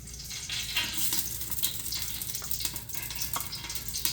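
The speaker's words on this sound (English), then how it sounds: "on medium heat, we are going to add our olive oil. It's going to sizzle" Olive oil sizzles in a pot over medium heat with a steady, quiet crackling hiss. Scattered small pops run through the whole stretch.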